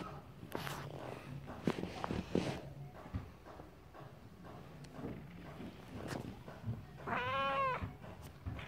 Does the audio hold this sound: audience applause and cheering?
no